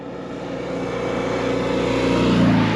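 Classic car on a rally, a loud engine note rising steadily as it drives past close by, with a throaty, buzzing rumble growing toward the end.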